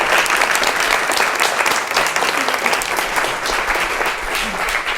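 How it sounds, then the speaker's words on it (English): A large audience at a London event bursts into sustained, dense applause, loud and close, holding steady for several seconds with no speech over it. "So can you give her a big round of applause?"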